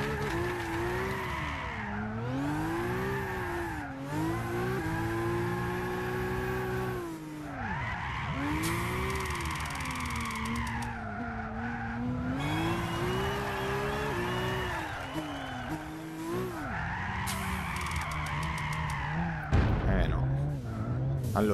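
A Red Bull X20 race car in Gran Turismo 6 at Goodwood, its high-pitched engine whine climbing and dropping through repeated gear changes and revs, with tire squeal, loud and steady throughout.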